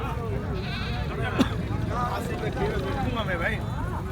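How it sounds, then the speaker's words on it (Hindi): Goats bleat at the Sanghar goat market, a few short wavering calls rising above a dense, noisy crowd of chatter and market bustle, fairly close and partly masked by the voices. "माशाल्लाह खूबसूरत बकरे हैं।"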